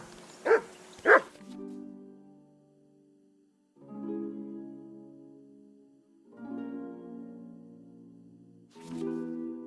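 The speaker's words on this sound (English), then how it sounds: "Call off that mutt of yours!" A dog in Kingdom Come: Deliverance II gives two sharp, loud barks, then three drawn-out whining, whimpering calls spaced over several seconds, and a final yelp at the end.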